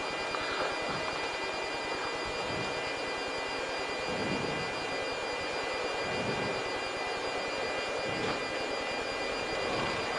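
A jet airliner climbs just after takeoff with its landing gear retracting, a steady, broad engine roar heard from inside that holds for the whole stretch with no talking.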